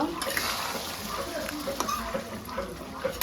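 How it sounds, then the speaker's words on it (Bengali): Water poured into mutton curry in a hot pan, giving a steady broadband hiss and sizzle with faint stirring clinks throughout, close and moderately loud. "এবারে আমি জল দিলাম মাংসতে।"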